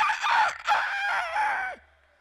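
A beatboxer performing live at a summer festival vocally imitates a chicken, with a run of loud, close clucking and crowing squawks for about two seconds before the sound cuts off.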